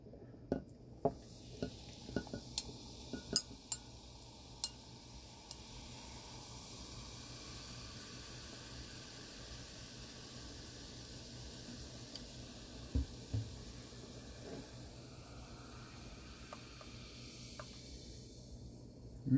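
Zero Sugar Mountain Dew poured into a well-used glass over two cubes of ice. A few light clinks come first, then a soft, steady fizzing hiss that runs on quietly to the end. No one speaks.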